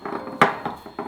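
Holiday baking ingredients being mixed in a bowl, close soft scraping and knocking strokes with one sharper clatter, brief and fairly loud with no talk.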